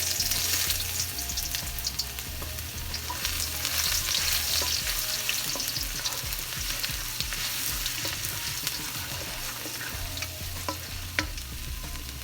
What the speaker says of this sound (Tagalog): Una guys, igisa muna natin yung luya.